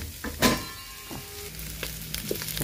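Meat frying in a covered pan with salt and pepper while it is stirred, giving a steady faint sizzle with a louder scrape and clatter of stirring early on and small utensil knocks later.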